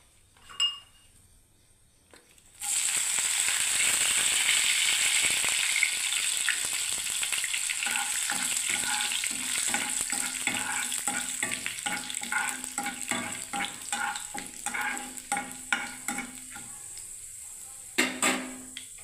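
Curry leaves hit hot oil with a sudden burst of loud, crackling sizzle that carries on steadily, punctuated by scattered clinks and scrapes of a utensil against the pan.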